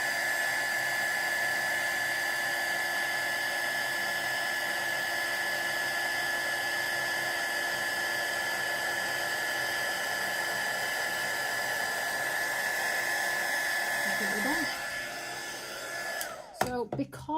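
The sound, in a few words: heat tool setting embossing powder on card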